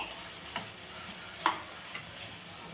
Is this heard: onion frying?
yes